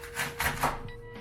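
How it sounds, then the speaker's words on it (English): A knife roughly chops vegetables on a cutting board for a vegan seaweed veggie stock, three quick, close knocks in an uneven rhythm, then a quieter tail of faint scraping. "You just roughly chop it all together,"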